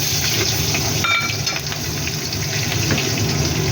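Nigella seeds and green chillies spit and sizzle in hot oil, a steady loud frying hiss that carries through the whole stretch with small crackles and no voices.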